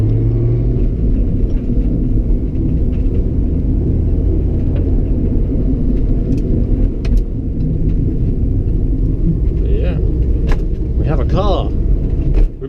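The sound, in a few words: drift car engine rumbling while driving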